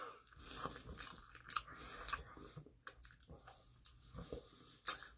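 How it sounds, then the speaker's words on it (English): Pizza being bitten and chewed up close, with soft crunches and wet squishy mouth sounds in an irregular rhythm, quiet and without speech. "I'm gonna eat the pizza with style."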